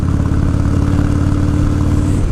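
Harley-Davidson EVO V-twin motorcycle engine running close by, a loud, deep, lumpy rumble holding steady before easing off near the end, with no voices over it.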